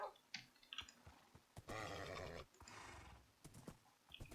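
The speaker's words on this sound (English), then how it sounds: "Chubby, I found more horses for you." Horses in Minecraft make a few quiet snorts and clip-clop steps, then a long whinny in the middle, with scattered soft game clicks around them and no talking.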